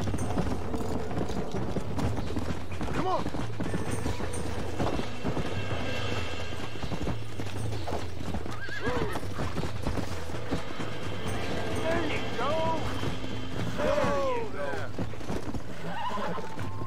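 Hooves clatter in a continuous galloping rhythm in the video game Red Dead Redemption while horses whinny and neigh repeatedly, with scattered mechanical and background noises throughout.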